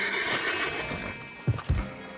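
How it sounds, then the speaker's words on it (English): Horse whinnying in Red Dead Redemption 2: a soft neigh under a bed of steady game ambience, followed by two quick, fairly close snorts or hoof-like thumps near the end. "And this here is Old Father Time, my favorite horse."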